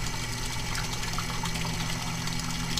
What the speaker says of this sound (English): the water pump driving this pipe flow